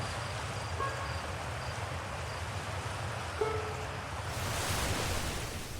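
Steady wash of surf and ocean waves near the shore in a cozy video game, a continuous broadband rush that swells slightly louder toward the end, with no talking.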